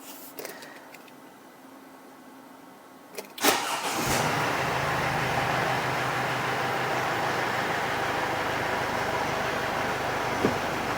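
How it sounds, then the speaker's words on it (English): A 2014 Mercedes Sprinter van sits quiet for a few seconds, then its engine cranks and catches, settling into a steady idle that runs on loudly and close. "I'm going to start the engine"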